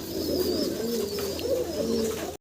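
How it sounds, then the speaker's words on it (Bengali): A pair of big Black Pomeranian Pouter pigeons coo steadily at close range, low throaty rolling calls repeating without pause over a faint high hum. "ব্ল্যাক প্রমিনিয়ান পটার দেখতে পারতেছেন, বিশাল বিগ সাইজের ভিতরে এক জোড়া কবুতর"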